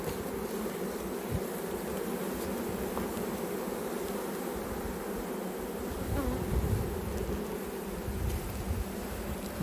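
A swarm of honey bees buzzes continuously and densely nearby, a steady, even drone with no talking.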